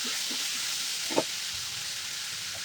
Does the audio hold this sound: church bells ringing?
no